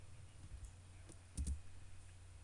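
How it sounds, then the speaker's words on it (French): A computer keyboard Enter key is pressed once, a quick soft double click standing out from faint room hiss and a few lighter taps. "On appuie Entrée."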